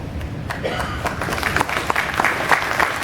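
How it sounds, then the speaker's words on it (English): Audience applause at a KISS fan expo Q&A session in Indianapolis, a dense steady patter of clapping from a crowd filling the hall for the full three seconds. "That deserves applause."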